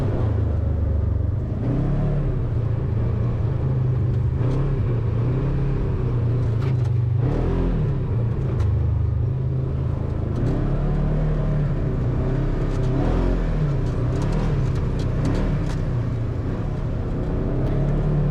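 A Polaris RZR XP1000 side-by-side being driven on a dirt course, its engine rumbling and revving steadily throughout, with a constant low drone, rising and falling throttle, and no voices.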